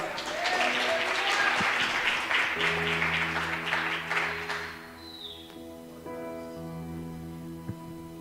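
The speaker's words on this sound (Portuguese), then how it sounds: "Pode dar um louvor de palmas ao Senhor." Congregation clapping in praise during a church service, a full burst of applause that fades after about five seconds into quiet sustained instrumental tones.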